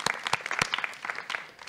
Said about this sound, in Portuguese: Salva de palmas aí para a galera.